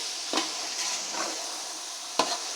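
Kabuli masala sizzles in hot oil in a pot of Afghani pulao, a soft steady frying hiss broken by a few louder scraping stirs of a spoon, with no talking.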